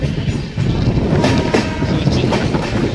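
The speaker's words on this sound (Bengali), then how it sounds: "আমাদের ট্রেন এখন দমদম জংশন স্কিপ করছে" The Sealdah–Sabroom Kanchanjunga Express with LHB coaches rumbles loudly through Dum Dum Junction without stopping, rhythmic clattering of wheels on rails, a continuous heavy roar with no voices.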